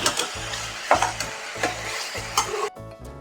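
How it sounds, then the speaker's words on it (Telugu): Mushrooms are stirred and fried in a pan for Telugu-style mushroom biryani and curry, with a steady sizzle and several rhythmic scraping strokes of the spoon before a lid clanks shut. No voices. "మష్రూమ్స్ని అన్ని పట్టే విధంగా కలుపుకోవాలి."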